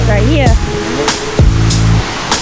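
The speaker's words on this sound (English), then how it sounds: "which is the last level of this waterfall" The seventh and last tier of Kanching Waterfalls roars steadily and loudly nearby, with voices talking and exclaiming over the rushing water.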